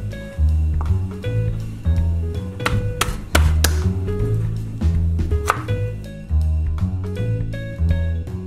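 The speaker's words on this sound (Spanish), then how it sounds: "se toman pedazos de ajo y pícalos" A knife chops garlic pieces on a board in a series of crisp, uneven taps and thwacks, some louder knocks among quicker strokes, heard close and alone.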